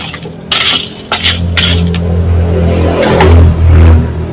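An electric blender whirs in a kitchen while yanang leaves are blended for a Lao snail soup, its low motor drone swelling louder near the end, mixed with clinking utensils and pans.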